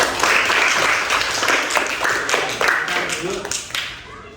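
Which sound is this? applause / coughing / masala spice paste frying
applause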